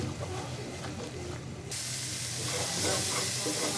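Chicken roast masala with onion, garlic and green chilies sizzling and frying hard in a pan, a steady loud hiss that suddenly grows brighter and stronger partway through, close and without talking.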